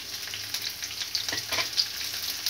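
Onion, garlic, ginger and dried chillies frying in hot oil for a mutton sambar, a close, continuous sizzle broken by brief stirring scrapes, with no talk over it.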